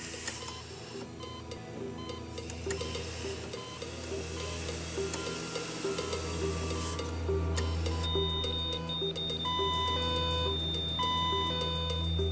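Medical alarm sounding after a child stopped breathing, a steady electronic tone with repeated beeps and a high whine layered over a low hum, loud and continuous with no talk.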